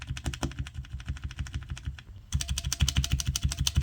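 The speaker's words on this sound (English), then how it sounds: "You can hear the springs." Lubed AKKO switches on a cheap keyboard typed steadily in fast, even clicks, with a brief lull before a louder, denser burst; a faint springy ping rides on each keystroke, no talk.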